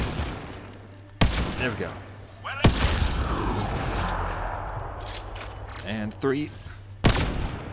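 Gunfire from a sci-fi shooter, Mass Effect Andromeda, comes as several loud, sharp bursts and booms spread across the stretch, under and between a person's talking and game noises.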